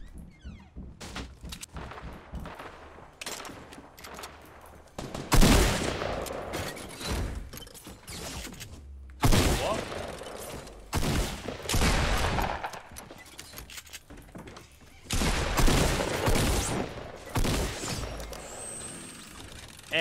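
Shotgun blasts go off in a Fortnite Battle Royale match, the Score Royale mode, as a few heavy, loud reports spaced several seconds apart over sparse background clatter.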